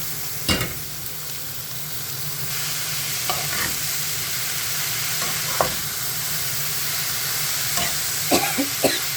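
Boiled gourd leaves cook in a hot pan, a continuous hissing sizzle with a few sharp clatters of a spatula stirring, close and alone without talk.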